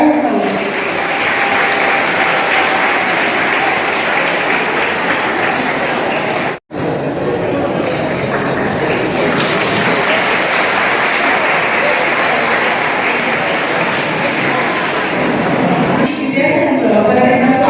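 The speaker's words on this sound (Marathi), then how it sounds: "त्याच्यासाठी एकदा जोरदार टाळ्या होऊन जाऊ" Loud, sustained applause from a crowd at a school alumni meet, continuous clapping with a momentary cut partway through and voices mixed in near the end.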